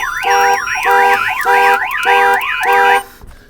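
Chevy truck alarm sounding through its horn output, a loud, close electronic siren cycling rapidly up and down in repeated bursts for about three seconds before cutting off.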